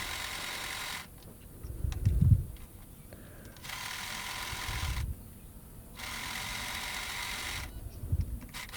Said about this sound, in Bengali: আপনারা দেখেই বুঝতে পারছেন আমি কিভাবে সেলাই করতেছি।